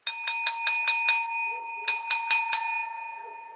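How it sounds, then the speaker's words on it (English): A small bell on a Bates Motel movie prop table rings clearly and close by, struck about five times in quick succession, then after a short pause four more times, fading out with no talk. "I knew I heard a bell."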